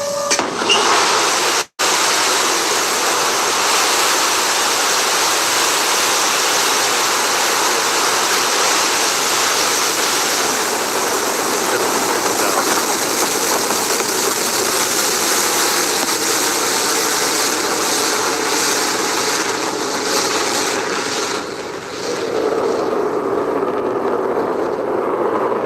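Blue Origin rocket engine roaring at liftoff, a loud continuous broadband rumble and hiss that holds steady for over twenty seconds, briefly cut out early on and dipping slightly near the end.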